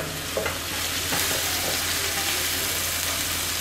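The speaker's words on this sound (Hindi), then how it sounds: "इसमें हम डालेंगे जो हमने 2 टीस्पून गार्लिक चॉप करके रखा था। इसको हल्का सा फ्राई करेंगे।" Chopped garlic frying in a pan for chicken Manchurian gives a continuous dense sizzle with stirring scrapes, close and fairly loud. A voice says a brief word.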